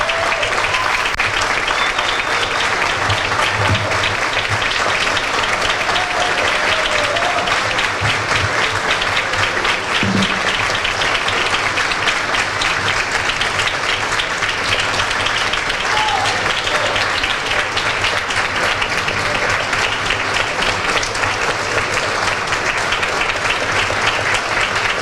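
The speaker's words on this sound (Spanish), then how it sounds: "les quisiera pedir un fuerte aplauso para Haroldo Sánchez" Audience applause at a panel discussion on fighting corruption, steady sustained clapping from a large crowd filling the room at full loudness, with some voices mixed underneath.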